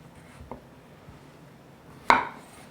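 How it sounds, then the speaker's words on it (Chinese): A knife cuts a zucchini on a board: a faint tap early on, then one clear, sharp chop near the end, close and alone with no voices. "把节瓜切一半"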